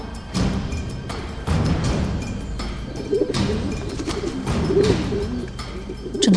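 Pigeons coo repeatedly in soft low calls, mixed with intermittent clattering knocks and bumps nearby.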